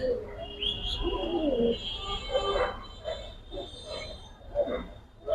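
Silver military pigeons coo in the rain in a loft, low throaty calls recurring through the clip amid steady patter and background noise, with faint chirps higher up.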